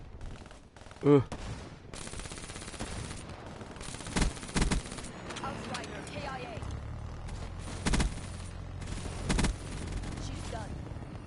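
Bursts of automatic gunfire in a shooter video game, several short loud volleys spread across the stretch, with someone talking over the shooting.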